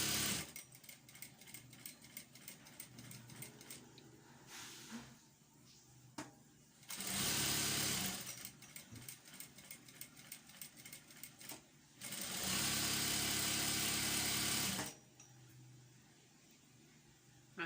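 A sewing machine stitches a tulle tutu skirt in fast, steady runs. Loud bursts of broadband rushing noise break in, and the stitching pauses and restarts several times.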